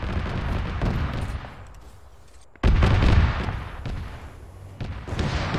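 High-explosive artillery shells fire and land in a military shooter game, with a rumbling barrage that fades, then a sharp loud impact followed by more rolling blasts and crackling gunfire, with no talk.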